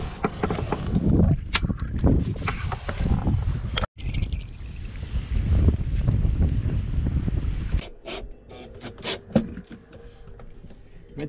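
A breeze blows into the cabin of a sailboat, giving a loud, steady rush of wind that buffets the microphone. It cuts out briefly, then returns and eases into softer gusts with a few knocks.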